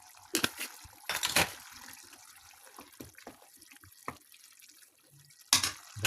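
Water splashes into a pot of liver pilaf in irregular pours and drips, close and fairly quiet, with a few louder splashing bursts.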